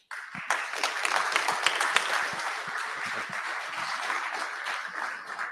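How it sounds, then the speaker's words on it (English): Audience applause for a presenter at a reverse investor pitch event, a dense steady patter of many hands clapping, moderately near and holding evenly throughout with no talk over it. "All right, big round of applause for Bradley here."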